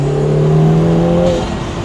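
A 2025 Lotus Emira with the four-cylinder i4 engine revs hard while driving, a loud, close, sustained engine tone holding steady before easing off near the end.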